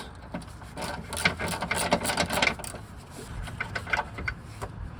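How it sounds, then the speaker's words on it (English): Socket wrench working the bolts of the lower engine torque rod mount on a Honda Civic, a close run of dense metallic clicking and ratcheting with scraping handling noise, steady for several seconds. "All right, bringing in the socket wrench. Make short order of all three bolts."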